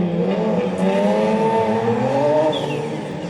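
Two drift cars, a 2JZ-GTE-powered Nissan S14 and a self-built turbocharged Nissan 370Z, idle and rev together on the start line at a pro-am drift event, a loud steady engine drone with rising harmonic pitch throughout.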